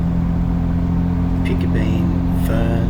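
A car cruising along forest trails in Mapleton State Forest on a 4x4 drive hums with a steady low engine drone, close by, while a person talks over it.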